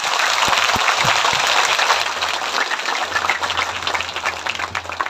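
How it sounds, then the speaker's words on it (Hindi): Audience at a Hindi religious discourse breaks into loud, sustained applause, dense clapping filling the hall for several seconds without letup. "इसलिए ताली खुलकर बजानी चाहिए।"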